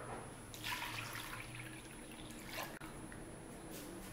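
Water trickles and splashes onto squash leaves set in a plate, a soft, fairly quiet pour with a few drips and brief bursts, heard alone without talk.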